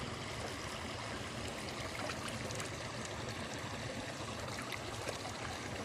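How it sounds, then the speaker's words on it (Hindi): Water pours steadily over hands being washed to the wrists during wudu, a continuous broadband rush with no pauses and no voices over it. "मिसवाक करने के बाद अब आपको दोनों हाथ गट्टों तक धोना है।"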